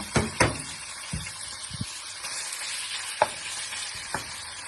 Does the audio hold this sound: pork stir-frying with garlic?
yes